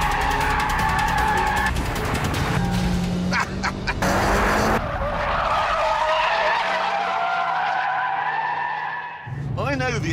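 A Mitsubishi Evo FQ360 with all four wheels spinning skids hard through a corner, tyres squealing loudly and continuously over the droning engine, with a brief gear change near the end.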